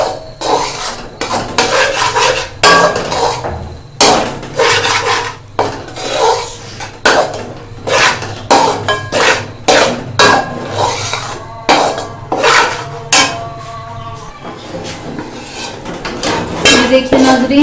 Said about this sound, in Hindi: अब हम इसकी अच्छे से भुनाई करेंगे